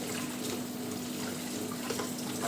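Hot water runs steadily from a household kitchen tap, a continuous close hiss with no talking.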